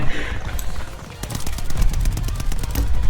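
Rapid gunfire from a shooter video game, shots crackling in fast repeated bursts under a steady rumble of game ambience, loud and close.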